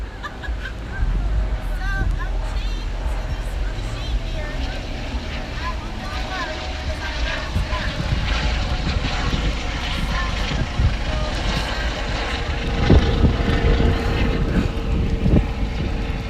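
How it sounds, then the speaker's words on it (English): A helicopter passes overhead during an outdoor construction protest at McMillan Park in Washington, a loud continuous rotor rumble and roar filling the scene while people talk and murmur nearby. "a helicopter is flying over us now"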